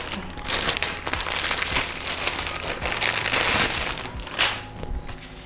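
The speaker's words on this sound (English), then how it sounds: "I'll quickly unwrap this" Plastic packaging for a Logitech MK295 wireless keyboard is unwrapped close by, with continuous crinkling and crackling that swells in bursts over several seconds.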